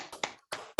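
A class of children claps a rhythmic concentration pattern in a classroom, four crisp hand claps in uneven groups with brief gaps, fairly near and alone.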